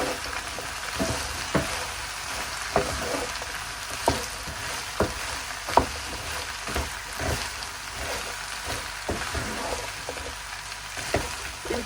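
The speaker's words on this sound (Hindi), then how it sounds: "इनको हमने इतनी देर के लिए फ्राई करना है जब तक इनकी जो लेस ख़त्म नहीं हो जाती।" Okra and three whole green chillies frying in a pan for a restaurant-style masala bhindi, a steady close sizzle with occasional sharp pops and stirring scrapes, no voices.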